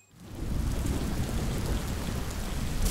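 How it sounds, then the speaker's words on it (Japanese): A heavy rainstorm in the video game Judge Eyes roars as a dense, steady wash of rain with thunder-like rumble, loud and continuous throughout. "すごい大雨やね。"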